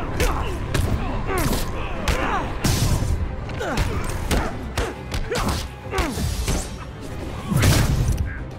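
Gunfire in the Spider-Man PS4 video game (2018): bursts of shots and impact thuds pop repeatedly through a busy fight mix, with voices talking and shouting over the action.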